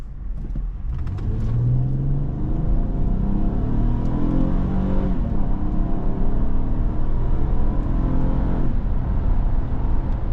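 A 2012 Honda CrossTour EX-L 4WD with its 3.5-liter V6 accelerates from inside the cabin, a loud steady engine drone with rising revs and gear changes under continuous road rumble.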